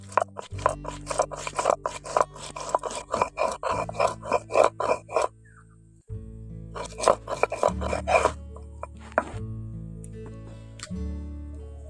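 Cumin and green chillies are ground together on a grinding stone, giving quick rhythmic rasping strokes in two close bursts separated by a short pause, with a faint steady tone underneath.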